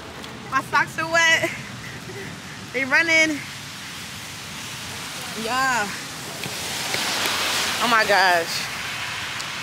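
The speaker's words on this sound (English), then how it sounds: "It's pouring." Heavy rain pouring down outdoors beside a cruise ship, a steady loud hiss that runs throughout under excited voices of several people talking and exclaiming.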